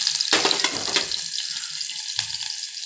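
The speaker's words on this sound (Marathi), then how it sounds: "कांदा, लसूण आणि कढीपत्ता हे सगळं घालून घेऊया." Onion, garlic and curry leaves frying in a pan, a steady bright sizzle with stirring clatter and a sharp burst as ingredients hit the hot oil near the start, plus a second flare later, close by with no talk.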